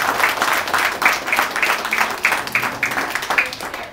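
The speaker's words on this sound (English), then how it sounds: "let's give a big Fairview round of applause for Dan Sullivan," A crowd at an outdoor community picnic applauds the mayor, with rhythmic, fairly close clapping that pulses steadily in unison.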